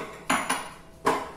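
Butter and sugar beaten in a bowl for a marble cake, heard as three quick scraping knocks of a utensil against the bowl, close up and fairly quiet, with no voices.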